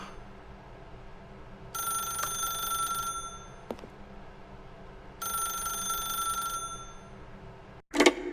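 An old-fashioned telephone rings in The Stanley Parable video game, two long bell bursts separated by a pause, loud and clear with no talking, followed by a brief click as the receiver is picked up.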